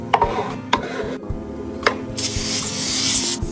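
A few short pumps of a trigger sprayer misting cleaner onto a mirror, followed by a longer hissing spray, close and loud, with faint handling clicks and rubbing around it.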